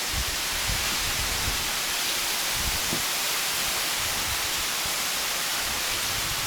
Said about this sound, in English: So, I think this is the last waterfall